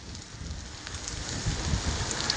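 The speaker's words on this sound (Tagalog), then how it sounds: "Ang lakas ng ulan." Heavy rain falls steadily while cycling on a slippery cement road in Saudi Arabia, a dense, continuous wash of drops with faint patters close by and no voices.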